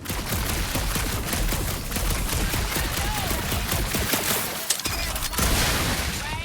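Sustained rapid gunfire from the Guardians of the Galaxy video game, dense overlapping shots and impacts rattling on continuously at close range with a few sharper cracks.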